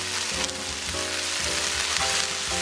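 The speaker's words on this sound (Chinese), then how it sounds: "这道菜自始至终都不要盖盖，大火翻炒" Bean sprouts and shredded chicken are stir-fried uncovered in a wok over high heat, giving a loud, constant sizzle broken by rhythmic scraping tosses about every half second.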